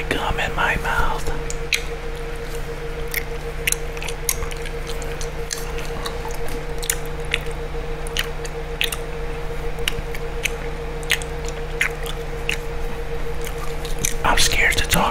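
Gum is chewed close to the microphone, producing wet, squishy mouth clicks and smacks in an irregular rhythm, with soft whispering underneath.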